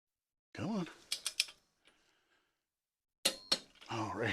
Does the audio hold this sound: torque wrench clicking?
yes